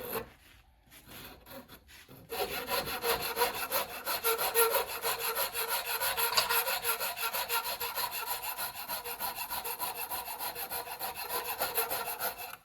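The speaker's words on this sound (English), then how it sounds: "If you draw that Shinto backwards, it pulls those off quite nicely." A Shinto rasp is drawn steadily backwards over a wooden axe handle, producing close, rhythmic dry scraping strokes that start after a couple of quiet seconds and continue without talk.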